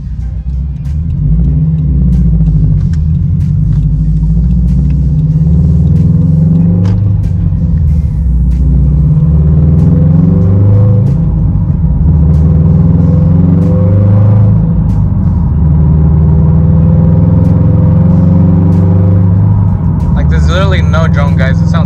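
A Subaru STI's engine and exhaust, fitted with an exhaust valve, rumbles and revs from inside the cabin, a deep steady drone rising and falling, with a person talking over it.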